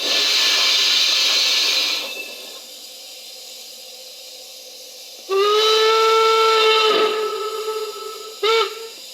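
Hissing steam gives way to a long, loud whistle blast, followed by a short second toot, from a Lenz O gauge DB class 01 model steam locomotive with DCC sound.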